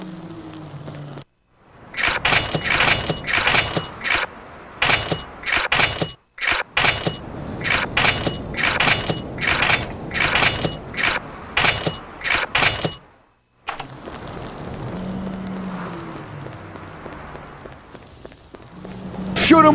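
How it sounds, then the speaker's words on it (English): Tank driving in the video game Zombie Shooter 2, a loud run of clanking, ratcheting mechanical bursts in an irregular rhythm, then a quieter rumbling stretch with brief tonal game sounds. "Take a tank and drive down the road till the next roadblock."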